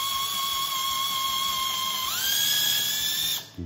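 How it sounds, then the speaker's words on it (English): A power drill whines at a steady high pitch as it slowly drills through wood in a workshop project. The tone rises partway through as the speed increases, then stops abruptly. "And then I'm gonna slowly press the drill on and slowly drill through."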